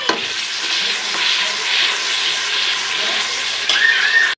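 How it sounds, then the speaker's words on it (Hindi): Two chopped medium-sized tomatoes hit hot oil in a pan and set off a steady, loud sizzle that rolls on without a break, along with faint stirring scrapes and no talking. "टमाटर कटे हुए हम इसमें डालेंगे, 2 अदद दरमियाने साइज के टमाटर हैं जो मैं इसमें डाल रही हूँ"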